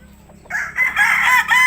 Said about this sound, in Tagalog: May mga alagang manok.